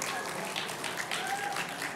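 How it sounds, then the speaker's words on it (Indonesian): Applause at a gathering with a panel of speakers, a quiet, steady patter of clapping heard from a distance with faint background noise. "Kasih tepuk tangan lagi untuk Kak Cindy."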